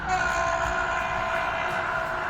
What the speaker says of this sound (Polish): Kolejny pociąg.